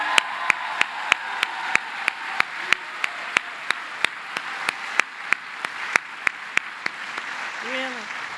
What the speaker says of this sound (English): I'm going to ask you to applaud again for Vernice